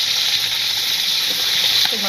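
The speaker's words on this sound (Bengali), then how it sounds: "মাছ ভাজা হয়ে গেছে" Fish frying in a pan during a village evening at home gives a steady, close hiss of hot oil that runs loud and unbroken through the short moment.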